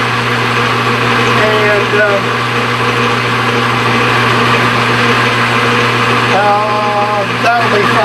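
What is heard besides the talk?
lathe taking a light cut on metal stock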